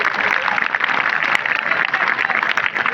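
Seminar audience at a road safety talk applauding, a dense, continuous wash of many hands clapping at close range, loud and steady throughout with no speech over it.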